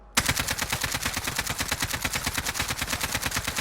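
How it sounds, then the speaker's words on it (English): Sustained automatic gunfire from a high-recoil weapon in the Warzone video game, a rapid, steady stream of shots lasting several seconds with no talk over it. "this is a really high recoil gun"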